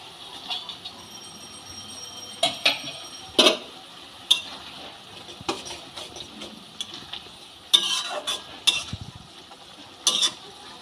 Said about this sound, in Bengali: এবার ভেজে রাখা মাছগুলো আমি হেলেন শাকের মধ্যে মিশিয়ে দেবো